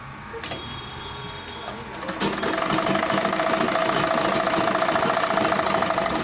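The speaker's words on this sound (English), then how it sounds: "from this same pointed edge, I will sew from here down" Sewing machine stitching down along the pointed edge of a single welt pocket, a quiet start with handling noise, then a steady close mechanical whirring hum that runs on without a break.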